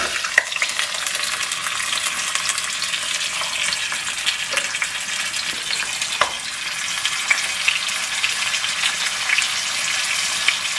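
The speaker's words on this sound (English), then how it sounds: "Our olive oil is nice and hot. And we're gonna drop in our breaded pork" Breaded pork browning in hot olive oil in a pan on the stove: a loud, steady, close sizzle with scattered sharp pops and crackles throughout, and no voices.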